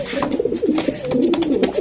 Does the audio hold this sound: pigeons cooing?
yes